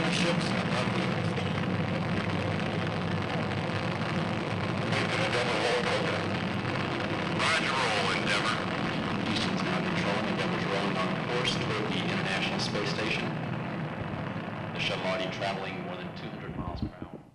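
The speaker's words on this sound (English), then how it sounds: "we have boost to ignition and liftoff of the Spatial Endeavour" Space Shuttle Endeavour's solid rocket boosters ignite at liftoff, a sustained broad roaring rumble that holds steady for many seconds with crackling bursts before fading at the end.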